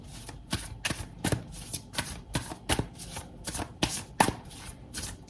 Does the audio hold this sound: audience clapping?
no